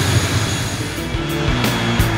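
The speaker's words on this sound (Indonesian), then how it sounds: "Sesaat setelah pesawat mendarat" An airplane lands at Ewer airport in Asmat, Papua, its engine a continuous, loud, close drone with a low steady hum for the whole stretch and no talking.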